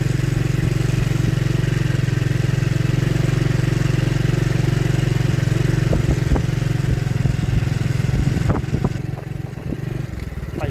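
A motorcycle engine runs loudly and steadily close by while being ridden in second gear, then revs with rattling clatter before easing off near the end.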